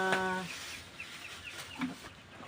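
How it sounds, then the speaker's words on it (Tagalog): A short, nasal quack from a nearby duck opens, followed by softer chirpy peeps from ducklings in the background. "namasyal na yung mga pato dito"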